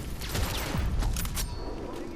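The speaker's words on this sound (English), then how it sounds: "just shoot cops as normal until your bar fills up again" Gunfire from shooting police officers in Hitman: Absolution, a steady spread of shots and impacts with busy game effects throughout, fairly muted and continuous rather than distinct single bangs.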